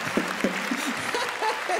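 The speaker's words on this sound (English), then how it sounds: "Some women applauding." Scattered applause from a few women in a comedy-club audience, light and uneven claps over a low room murmur, with a couple of brief voices near the end.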